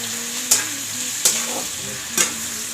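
Garlic, onion and ginger frying in a pan, a continuous loud sizzle with three distinct spoon scrapes spaced about a second apart, close up and without speech.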